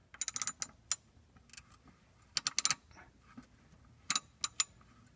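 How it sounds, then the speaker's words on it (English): Ratchet socket wrench loosening the 13mm bolt on the oil pump of a Pontiac Fiero GT, quick close bursts of rapid clicking separated by pauses, clear and alone against a quiet garage. "we'll get a socket up there, get that taken off, the pump will come right down and we can swap it out"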